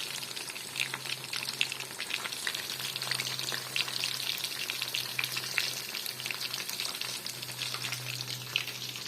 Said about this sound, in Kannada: ನಾನು ಫ್ರೈ ಮಾಡ್ತಾ ಇದ್ದೀನಿ